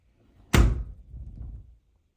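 Door latch driven into the strike plate as an interior door closes: one sharp knock, followed by a brief low rattle that fades within a second.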